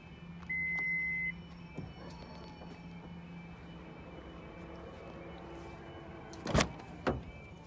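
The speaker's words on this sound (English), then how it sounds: "We have rear electric windows" Rear electric windows on a 2.0 D-4D Toyota RAV4 Icon hum steadily as the glass travels, with a brief beep early on and a couple of sharp clunks near the end as the window stops, close by and moderately loud.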